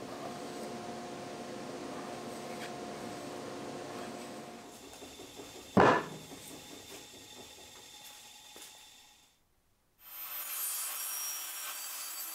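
A hand plane rasps along timber frame posts in steady repeated strokes, close and moderately loud, with one sharp knock near the middle, then a brief silence and a hissy noise.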